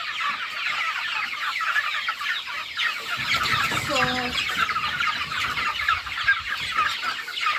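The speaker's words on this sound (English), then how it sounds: "these chicken have like about 2 more weeks before shipping out" Broiler chickens cluck and chatter steadily in a poultry pen, a dense, close flock murmur that runs throughout, with a brief word spoken over it.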